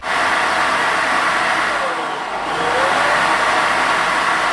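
A loud, continuous whooshing roar of a Deerma T50W docking station self-emptying a vacuum cleaner over about 20 seconds, peaking near 78 dB, steady throughout with a brief dip in the middle.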